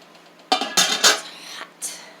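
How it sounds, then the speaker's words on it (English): Hot water is poured out of a glass canning jar during salsa making, giving a few quick splashy bursts against a pot with faint clinks between them and no talking. "Carefully dump the water out of it."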